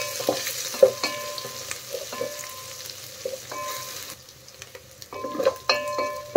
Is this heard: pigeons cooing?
no